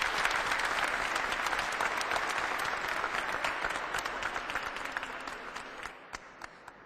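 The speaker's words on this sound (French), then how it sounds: "Permettez-moi, au nom des organisateurs, des experts et des observateurs de ce séminaire, d'applaudir très très fort ces jeunes." A seminar audience applauds steadily, a dense wash of clapping that holds for several seconds before thinning out and fading into scattered final claps.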